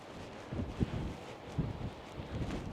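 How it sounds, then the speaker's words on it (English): Gusty wind buffeting the microphone the morning after Storm Lilian in Kidsgrove, a steady low rumble with irregular thumps and swells that rise and fall throughout, with no voices. "Don't know whether the mic is cutting the wind noise down, but as I say, it is quite windy."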